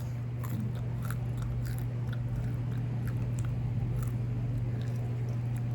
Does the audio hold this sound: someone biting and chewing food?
yes